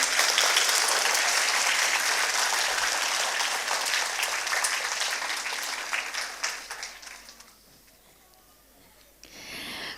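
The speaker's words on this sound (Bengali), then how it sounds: "খুব জোরে একটা করতালি।" An audience at a Bengali community conference ceremony claps loudly and continuously during a presentation of a memento and bouquet, the applause thinning and fading out toward the end.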